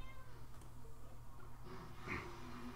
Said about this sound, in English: Why is that cat being so loud?